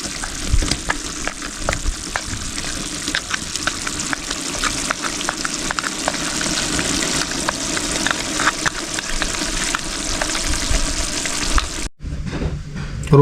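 Loud, continuous sizzling and frying of ginger garlic paste in a pot for Sri Lankan dum biryani, outdoors in a village kitchen, with scraping stirring sounds throughout, ending with a brief pause and softer sizzle.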